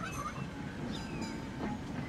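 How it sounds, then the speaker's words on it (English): A tram rolling on rails in the city-building game Transport Fever 2, a steady mechanical rumble with faint clicking and a brief wheel squeal, continuous and moderately close for a couple of seconds. "Pretty cool tram."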